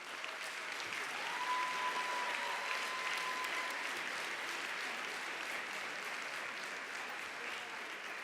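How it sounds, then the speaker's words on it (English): Audience applause at a conference awards banquet, a steady, even roll of clapping from a large room, moderately quiet, continuing alone without talk. "please join me in giving them a warm applause for their service"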